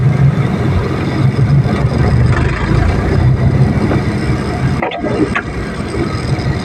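A car engine runs steadily throughout, a continuous low drone with a brief dip near the end, heard from inside the vehicle on a rainy Christmas drive.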